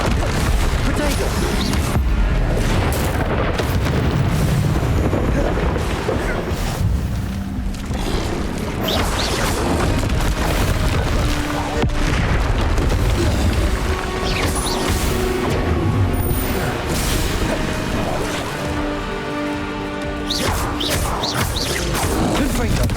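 Confringo and Bombarda spell blasts crash and boom repeatedly through a dense, loud stretch of combat in the game Hogwarts Legacy, with clanking mechanical impacts layered over a continuous roar.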